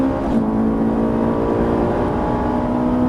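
A Ferrari 458 accelerates on a race circuit, its engine a loud, steady in-car drone with a rising harmonic tone held for a few seconds without talk.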